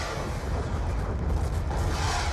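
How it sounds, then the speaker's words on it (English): Fireworks bursting in the sky in a clan-battle video game, heard as a continuous dense rumble of overlapping booms and crackle at a steady loudness, with no talk over it. "You can see the swarm and all the beautiful fireworks in the sky."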